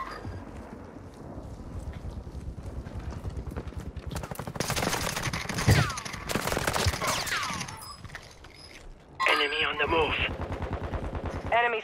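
Bursts of automatic gunfire and scattered shots from a Call of Duty Modern Warfare II Warzone match on Ashika Island, layered with game effects and radio voice callouts, growing denser in the middle and ending with a louder effect.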